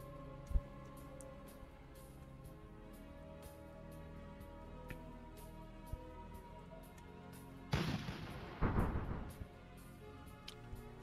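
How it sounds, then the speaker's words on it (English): Gunfire and artillery in the Rusted Warfare strategy game, faint scattered pops and thuds over a quiet game hum, then a louder burst of booming fire near the end, with no talk. "I'm hearing shots, but I don't see anyone."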